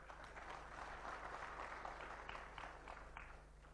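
Audience applause at a panel discussion on AI in India, a steady broadband patter of clapping filling the room at moderate distance over a faint low hum, with no voices.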